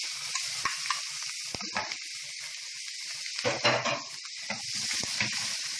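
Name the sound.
onions frying in leftover fish oil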